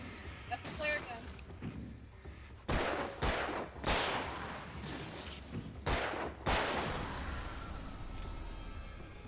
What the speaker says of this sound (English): That's a flare gun.